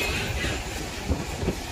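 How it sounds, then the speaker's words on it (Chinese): A small narrow-gauge sugarcane train at the century-old Huwei sugar factory in Taiwan rumbles past nearby, a steady rolling clatter with a couple of low knocks. "小火车"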